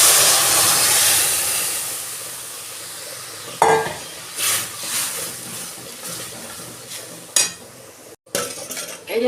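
Gravy is poured into a pan of sizzling vegetable dal: a loud steady sizzle, then a sharp hissing surge as the liquid hits, followed by bursts of bubbling and metallic clinks of stirring.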